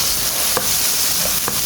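Tomato, ginger and garlic sizzle steadily in hot oil in a pan, a constant bright frying hiss with a few soft stirring taps, no voices.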